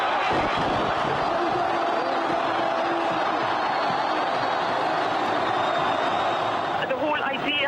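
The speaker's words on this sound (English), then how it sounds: "Listen to that crowd." A huge crowd in Egypt roars and cheers without pause as Hosni Mubarak steps down, the noise a dense, continuous wash of voices, whistles and shouts that holds steady throughout.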